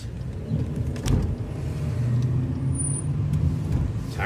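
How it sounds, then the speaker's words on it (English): Cars idling and rolling through a turn lane in traffic, a steady low engine rumble with a faint hiss, fairly close, no voices. "Now we're waiting for cars to make their turns."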